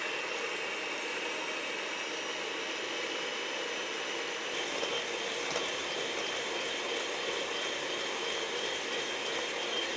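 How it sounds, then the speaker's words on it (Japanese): Electric hand mixer whipping fresh cream with granulated sugar for a coffee cream, a steady close motor whir with constant broadband hiss, slightly louder and rougher in the second half, no talking. "そしたらこれをハンドミキサーで立てていきます。"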